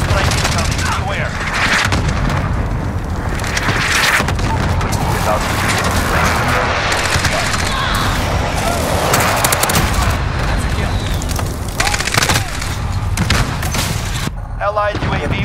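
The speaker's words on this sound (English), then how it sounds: "Allied precision airstrike incoming" Precision airstrike explosions and gunfire in Call of Duty: Modern Warfare, a dense, loud, continuous barrage of shots and blasts throughout with voices calling out over the battle.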